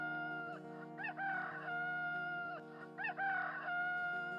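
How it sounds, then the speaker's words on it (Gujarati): A rooster crows twice in a Gujarati devotional story recital, each crow rising sharply over a sustained, droning musical accompaniment. "આકાશ માર્ગે મારી બાળી બવસર કલંગી કુકડો 3 વાર બોલ્યો"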